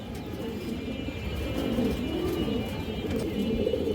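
Large, old black Muslodom pigeons coo in a dense, continuous low rumble, loud and near, with scattered chirps above it and no talk.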